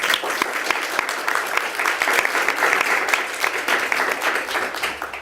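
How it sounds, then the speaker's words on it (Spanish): Steady, sustained applause from a crowd, dense clapping that holds at an even, fairly loud level throughout. "les pido que les den un fuerte aplauso de bienvenida aquí a la Flaxo"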